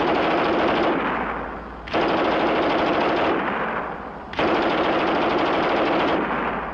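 A German MG 34 machine gun fires three long, continuous bursts, loud and close, with short pauses between them.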